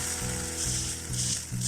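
A sweet potato and jaggery crepe sizzles steadily in a hot pan just after being flipped, a loud continuous frying hiss over a soft pulsing hum.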